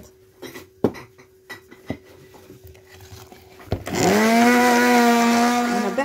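Bowl and utensil clinks come first, then an electric mixer starts and whirs loudly and steadily through layer cake batter, with a sustained close motor drone to the end.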